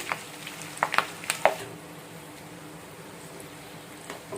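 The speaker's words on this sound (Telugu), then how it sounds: "రిమైనింగ్ చికెన్ని కూడా ఇలా ఫ్రై చేసుకున్న తర్వాత లాస్ట్లో ఇందులో కొన్ని మధ్యలో కట్ చేసుకున్న పచ్చిమిర్చి, కరివేపాకు వేసుకుంటున్నాము" Chicken pakoda fries in oil with green chillies and curry leaves, giving a soft, faint sizzle with a few sharp pops and spatters early on, then a quiet, steady hiss.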